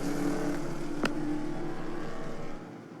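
Baby Grand race cars at Auburndale Speedway accelerating together on a single-file restart, a steady loud engine drone with a rising tone, heard from trackside without talk and fading slightly at the end.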